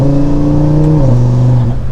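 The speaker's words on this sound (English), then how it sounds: "There is hardly any input at all when I accelerate full throttle in this car now." A 2024 Audi RS3 fitted with adjustable swaybar endlinks accelerates at full throttle, its loud, close engine drone holding steady and then dropping in pitch as it shifts gear.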